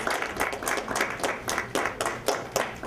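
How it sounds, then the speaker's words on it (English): A small group claps steadily, close and fairly loud, with clear individual hand claps rather than a roaring crowd. "can we give them a round of applause, please?"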